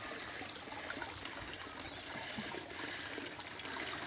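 A pump-driven garden pond waterfall runs in autumn, giving a steady, soft trickling and splashing wash of water that stays even throughout, with no voices.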